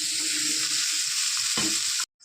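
Small-fish curry coming to a boil in a pan, a steady bright hiss of vigorous bubbling that runs on, then cuts off abruptly.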